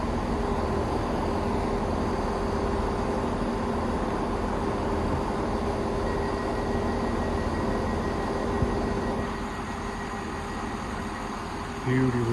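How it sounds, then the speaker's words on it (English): A train pulls into a London railway station with a steady low engine rumble and faint tonal whine, the hum easing near the end while a voice talks over it. "Beautiful train is coming in the center."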